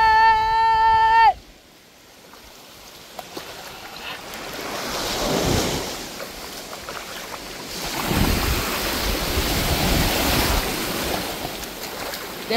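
Ocean waves and surf wash in broad swells beside a private island, mixed with wind buffeting the microphone; a short tonal sound opens before the steady rolling water takes over.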